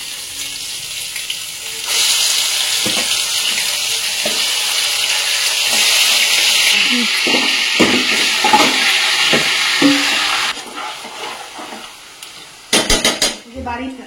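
Large biryani-size chicken pieces dropped into hot oil burst into a loud, close, steady sizzle that holds for several seconds, then drops away, followed by clattering taps of a spoon against the pan.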